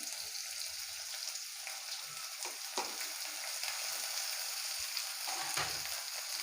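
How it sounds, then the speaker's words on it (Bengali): Chopped onion and green chili fry in a pan with a steady, close sizzle, broken by a few sharp clicks and scrapes of stirring, with no voices. "পেঁয়াজটাকে কিছুক্ষণ আমি হালকা করে একটু ভেজে নেব এবং পেঁয়াজ দেবার পরপরই আমি দিয়ে দিব"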